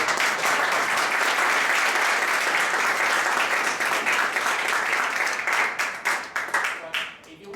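Sustained audience applause after a lecture on the science of cities, dense loud clapping filling the room for several seconds before thinning out at the end.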